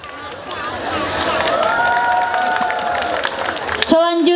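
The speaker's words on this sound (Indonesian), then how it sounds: "sekali lagi kita beri tepuk tangan yang meriah untuk peserta 6 top bujang kita" A crowd at the Budara Gawai Dayak pageant claps and cheers for a top six contestant, with sustained applause, shouts and babble under a loudspeaker voice, then music starts abruptly at the end.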